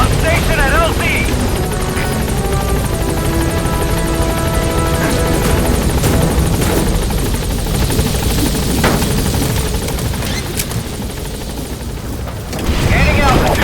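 Helicopter gaining altitude in Metal Gear Solid V: The Phantom Pain, a loud continuous rotor thrum and engine whine filling the scene, with game sound effects, a sharp burst near the end, and voices at times.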